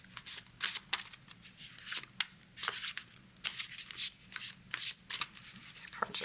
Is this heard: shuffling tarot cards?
yes